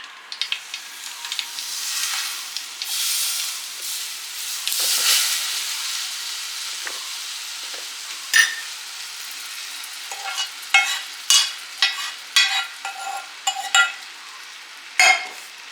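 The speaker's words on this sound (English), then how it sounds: "And now we'll pour the hot oil over the red chili powder and the methi powder which we kept." Hot oil poured over red chili and methi powder sets off a loud, bright hissing sizzle that fades, followed by a series of short sharp clinks and scrapes from a spoon in the bowl.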